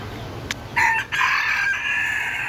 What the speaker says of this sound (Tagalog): Favorite ni Abdul yan, yung mga ganyang manok.